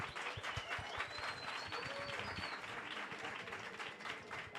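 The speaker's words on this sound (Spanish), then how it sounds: "un aplauso" Applause from a gathered audience, quiet and somewhat distant, with many hands clapping in a steady patter and some vocal sounds mixed in.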